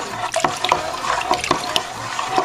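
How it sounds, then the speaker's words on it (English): Warm water is poured into a winemaking bucket while bentonite is stirred in for a Riesling white wine kit, giving a steady close splashing and trickling stream with soft knocks and clinks throughout. "I stirred it as I was pouring it into the hot water"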